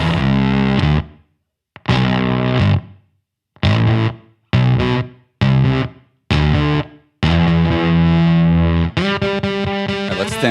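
Fuzzy distorted guitar through a gated germanium fuzz pedal in short choppy bursts, each note cutting off abruptly into silence, giving a gated, sputtering quality before a longer sustained chord.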